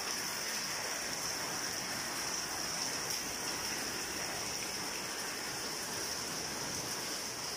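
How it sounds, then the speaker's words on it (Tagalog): Heavy May rain pours down at night in a steady, loud hiss, an unbroken wash of falling water with no voices. "Lakas naman ng ulan."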